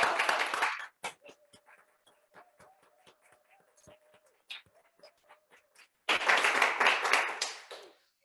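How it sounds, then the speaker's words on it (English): A short burst of applause for a woman opens at a live financial wellness session, then fades into near silence with scattered faint taps and a steady low tone, before a second louder round of clapping swells and dies away. "a big round of applause for her."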